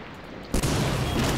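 A single sharp gunshot from Medal of Honor: Allied Assault bursts in after a moment of quiet, followed by a loud, sustained rumbling echo.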